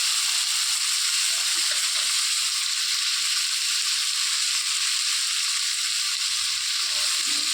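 Onion and pointed gourd pulp fry together in a pan for potol dolma, making a loud, continuous, close sizzle with occasional stirring scrapes.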